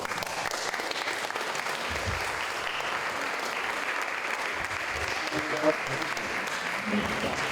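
Audience at a youth community event in Kalisar, Jember applauds three works by young residents: a steady, dense wash of clapping at moderate distance that holds unbroken throughout, with a few low thuds mixed in.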